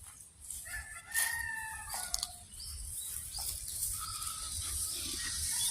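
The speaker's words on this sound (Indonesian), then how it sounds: "Nah, itu ada ayam alas" A green junglefowl crows in the open, a short harmonic call with a clipped, broken ending rising over quiet outdoor ambience, followed by fainter distant bird calls and chirps.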